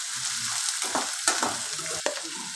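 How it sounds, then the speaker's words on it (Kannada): Onions frying in a pan until brownish, a steady close sizzle with several sharp scraping stirs of a spoon against the pan, no voices. "ನೋಡಿ ಗೈಸ್, ಈ ರೀತಿ ಬ್ರೌನಿಶ್ ಆಗೋ ಗಂಟ ಫ್ರೈ ಮಾಡ್ಕೊಳ್ಳಿ."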